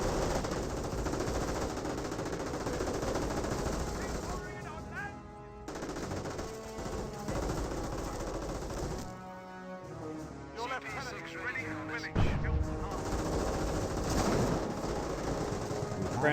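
Machine-gun bursts and rifle shots crackle through a Company of Heroes battle between British and Wehrmacht forces, loud rapid rattling fire broken by brief lulls, with a low horn-like tone and voices heard under the gunfire.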